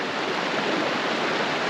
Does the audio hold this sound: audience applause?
no